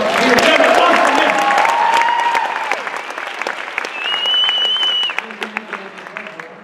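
A large crowd at the 2014 Beachbody Summit team meeting claps loudly, dense applause that swells at the start and gradually thins into scattered claps, with a voice briefly heard over it.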